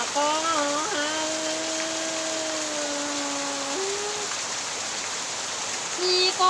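Heavy rain pours down in a steady, dense hiss that fills the whole clip, with a faint tonal whine drifting through the first few seconds.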